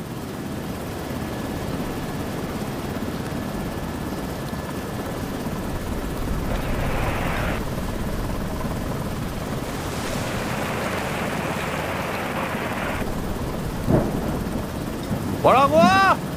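A storm rages in a video game set on a storm-tossed cargo ship, with a steady loud roar of wind and surf throughout and brief tonal bursts layered on top near the end.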